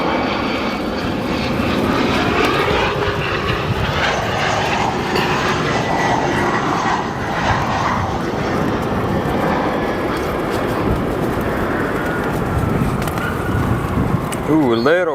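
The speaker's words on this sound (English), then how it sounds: "A little bouncy with that SkyWest Airlines flight." A SkyWest Airlines regional jet lands at O'Hare with a slightly bouncy touchdown, steady loud engine roar and rushing air filling the whole span, voices faintly mixed in.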